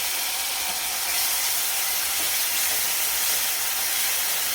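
Onion paste sizzles in hot oil in a pan while fish curry with raw mango is made, giving a steady, loud, even hiss throughout with no talking.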